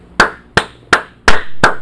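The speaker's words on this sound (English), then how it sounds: "let's just all give MrBeast a round of applause" A round of applause from a single person, five sharp hand claps in steady rhythm, close and loud with no talking.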